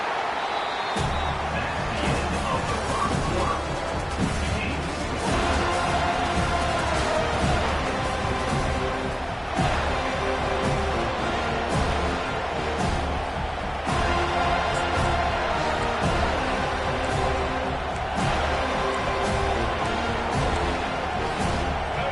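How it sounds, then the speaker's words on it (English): A packed stadium crowd at a college American football game roars steadily and loudly on a third-down defensive stand, a dense sustained wall of cheering with a commentator's voice over it. "Decibels rising as the crowd gets behind this defense on 3rd down"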